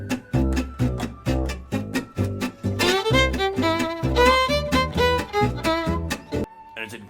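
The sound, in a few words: jazz music excerpt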